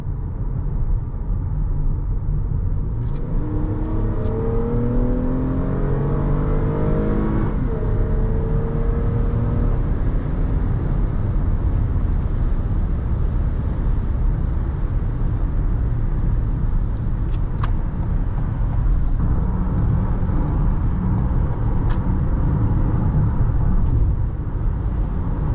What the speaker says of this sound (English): We'll try getting this thing on the highway, see what it's like.